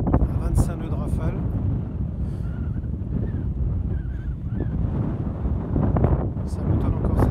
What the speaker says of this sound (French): le coup de vent de l'après-midi thermique, qui était lancé d'ailleurs